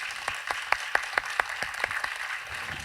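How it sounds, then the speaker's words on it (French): A small audience gives a sparse welcoming applause for a speaker at an evening lecture. Individual claps sound distinctly at an uneven rhythm over a quiet room, fairly faint and with no talking. "On vous applaudit pour vous accueillir quand même."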